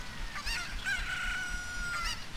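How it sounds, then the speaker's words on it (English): A chicken in the video game Zelda: Ocarina of Time crows once with a drawn-out cock-a-doodle-doo, framed by a few short clucks, heard alone and fairly close. "Was that you, chicken?"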